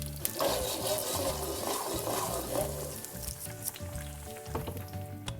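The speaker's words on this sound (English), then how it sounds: "now that the garlic's starting to fry, you're going to want to make sure that's on low heat" Garlic frying gently in oil in a pan over low heat, a steady soft sizzle and crackle running throughout at close range with faint kitchen clatter near the end.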